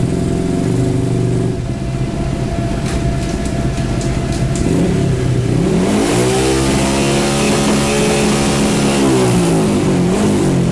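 Carbureted motorcycle engine fitted with an aftermarket CDI box, held at high revs against the rev limiter so it stutters, then the pitch swoops down and climbs back up in repeated wavering revs, loud and close with no talk.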